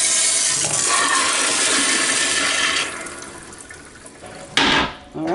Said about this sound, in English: flush the toilet so a lot of the water can go down.